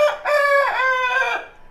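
A rooster crows once, a loud, close, drawn-out call that rises and then trails off, with no talk over it.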